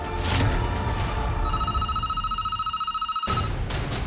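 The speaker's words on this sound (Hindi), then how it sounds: "किसी का फोन आ रहा है।" A phone rings with a steady electronic tone that holds for a couple of seconds and then cuts off, amid background noise.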